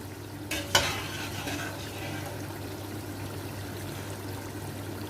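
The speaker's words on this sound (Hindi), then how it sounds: "तो अब मैं इसमें जो है मटन वो ऐड कर देती हूँ" Mutton pieces dropped into fried masala in a pot, giving one brief sizzling burst that settles into a low, steady fry with faint stirring, no voices.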